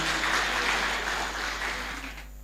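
A church congregation claps during a Sunday worship service, a dense, steady wash of hands from many people that fades slightly toward the end.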